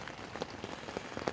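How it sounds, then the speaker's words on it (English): Rain falls steadily on a camping tent, a soft continuous patter with scattered sharper drop hits, fairly quiet and close, with no voices. "If you can hear that, that's the sound of rain."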